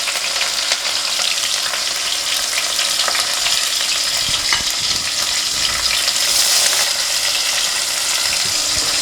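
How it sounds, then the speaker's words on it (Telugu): Green chillies and onion fry in hot oil for a chicken curry, a steady, loud crackling sizzle running throughout with occasional stirring scrapes and no voices. "పచ్చిమిరపకాయ, ఉల్లిపాయ వేస్తాం."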